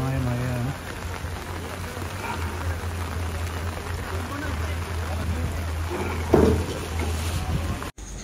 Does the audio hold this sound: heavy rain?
yes